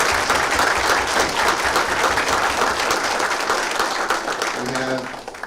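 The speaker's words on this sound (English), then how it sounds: "So let's give a big round of applause to Brendan's family who came out." A crowd at a memorial pool tournament applauds the honoree's family, loud, dense clapping that continues through the clip before a voice begins speaking near the end.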